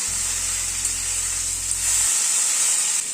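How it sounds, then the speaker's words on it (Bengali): Pumpkin leaves sizzle steadily as they are sautéed in a pan, a continuous close frying hiss with a low hum underneath for the first two seconds. "সবজিটাকে আরো 2-3 মিনিট একটুখানি কষিয়ে নিলাম।"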